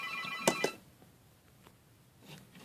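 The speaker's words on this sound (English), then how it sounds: "Phone rang!" A telephone ringtone plays indoors during a toy figure review: a short burst of steady electronic tones that stops abruptly after two sharp clicks, then only faint room noise and scattered small handling sounds remain, fairly quiet overall.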